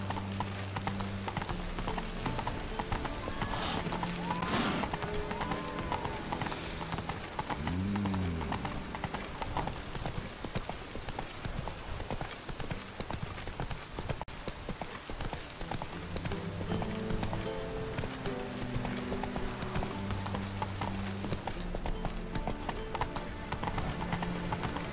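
Roach, Geralt's horse in The Witcher 3 video game, gallops with steady, rapid clip-clop hoofbeats that continue throughout, with a brief whinny partway in, all under background game music.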